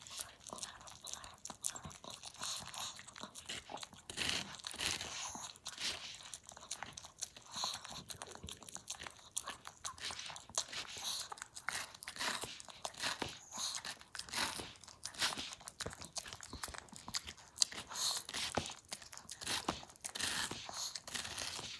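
A dog crunches and bites through crunchy treats, with dense, continuous chewing and crackling noises close by throughout, faint background voices now and then.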